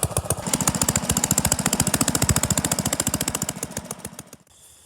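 Single-cylinder engine of a 1947 Pond lever steer garden tractor set up with a one-bottom plow, loud rapid steady chugging pulses that slow and then stop near the end.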